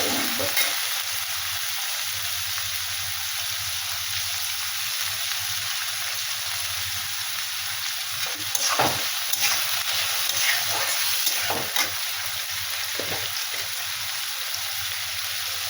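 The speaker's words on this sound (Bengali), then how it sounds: "এবারে এটা ভালো করে নাড়াচাড়া করে ভেজে নেব।" Onion, chili, salt and beans stir-fry in a pan with turmeric, a steady broadband sizzle running throughout, broken near the end by a few scraping stirs of the spatula; no one speaks.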